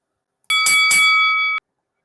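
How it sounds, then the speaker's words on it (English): A single clear bell strike rings out loud and alone, its bright metallic tone holding for about a second before cutting off abruptly, with silence before and after. "We do have a bell"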